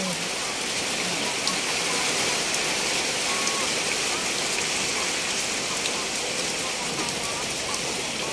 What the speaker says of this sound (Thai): วันนี้ก็พามาดูบรรยากาศนะคะ บรรยากาศฝนตกนะคะที่ภูเก็ตนะคะ